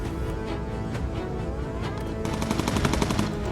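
Rapid machine-gun fire in the Bomber Crew video game, a steady stream of dense shots that grows louder and sharper partway through, over a continuous engine drone.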